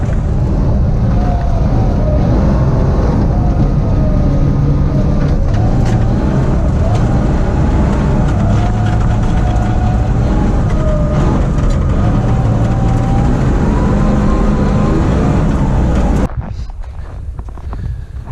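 Car on studded tyres driving on ice at the Below Zero ice driving venue just outside the Arctic Circle in Sweden, a steady loud engine drone with shifting revs and road rumble, ending abruptly near the close.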